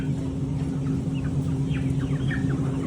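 Chickens cluck and squawk in a few short, bright calls over a steady hum of farmyard background noise, with no talking.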